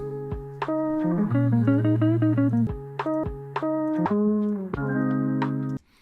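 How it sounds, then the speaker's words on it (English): A sequence of sustained major 9 chords played on a clean instrument, changing every second or so, with rich layered harmony and no voices. "It's the sound of a major 9 chord."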